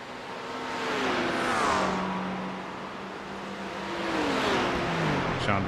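BMW, Porsche and Aston Martin GT race cars in the iRacing game at Bathurst, engines droning and revving together with rising and falling pitch, steady and fairly loud, with no voices.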